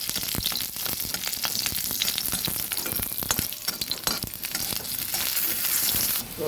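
A few garlic cloves and two green chillies go into hot oil in a frying pan for a pumpkin-leaf bharta, raising a loud, steady crackling sizzle with scattered sharp pops and light clinks, without any talk.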